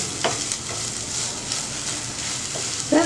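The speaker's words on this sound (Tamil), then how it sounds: "இது நல்லா வதங்கட்டும்." Onions sautéing in a hot pan for banana blossom fingers, a bright continuous sizzle with a few spatula scrapes and stirring knocks, close and loud, no talk.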